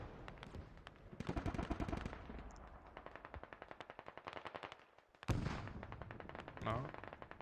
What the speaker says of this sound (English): Oh, they're shooting at it, I think.